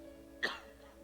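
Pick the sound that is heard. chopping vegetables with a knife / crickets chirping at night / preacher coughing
preacher coughing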